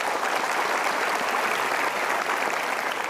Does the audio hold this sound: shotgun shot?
no